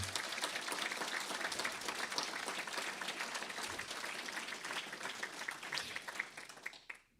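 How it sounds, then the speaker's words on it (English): Audience applause at a talk event, a steady roll of many hands clapping at moderate distance that continues evenly, then tapers and stops abruptly at the end. "And I'd like you to give her a round of applause."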